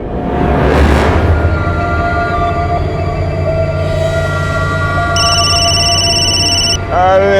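A telephone rings during a loud party, its electronic ring tone coming in repeated bursts toward the end over heavy background music and noise.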